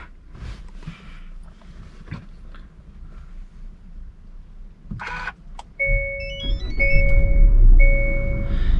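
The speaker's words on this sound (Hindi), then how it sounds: "Let me start the car." An automatic Hyundai Alcazar is started: a few soft clicks, then a sharp press, then a series of bright electronic chimes as a low engine rumble swells up and settles underneath.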